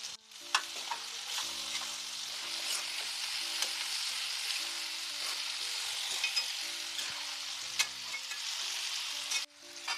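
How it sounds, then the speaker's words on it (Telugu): Onions and cucumber frying and being stirred in a pan for a tomato, capsicum and chukkakura curry, with a steady close sizzle and intermittent scraping stirs throughout. "ఉల్లిపాయలు, దోసకాయ వేస్తున్నాను."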